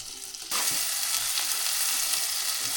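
Ground masala for mutton curry hits a hot pan and bursts into a loud, close, sustained sizzle after a brief quiet moment.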